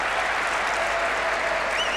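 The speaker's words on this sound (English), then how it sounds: "Her brother Ivor applauds the shot by sister Doherty." Steady, full applause fills a curling arena after a shot in the 1997 World Women's Curling Championship gold medal game, with Canada's Schmirler rink playing. It holds even and continuous throughout.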